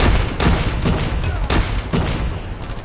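A bazooka-style grenade launcher in Call of Duty Mobile fires in several heavy booming blasts, loud and close, each explosion rumbling over dense continuous battle noise.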